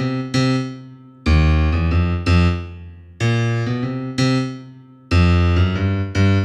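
Acoustic piano left hand playing a driving blues riff in repeated low chord stabs with short gaps between phrases, loud and clear with no talking.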